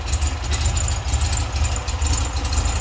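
A 1973 Volkswagen GT Beetle engine idles unevenly close by, running roughly, its low throb pulsing and stumbling in an irregular rhythm for a few seconds.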